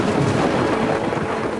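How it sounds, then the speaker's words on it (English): A massive thunderstorm roars as a dense, loud wash of rumbling thunder and heavy rain, unbroken for the whole short stretch. "he was caught in a massive thunderstorm"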